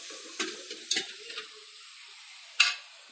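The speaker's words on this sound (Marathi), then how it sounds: "टमाटर पण टाकून घेऊया. छान परतून घ्यायचं आपल्यामध्ये." Tomatoes sauté in a pan for a chicken biryani. Soft hissing sits under a few short scraping stirs, then the sound thins almost to silence before one last sharp scrape.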